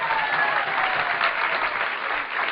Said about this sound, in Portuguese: deves dar um aplauso bem grande a ti mesmo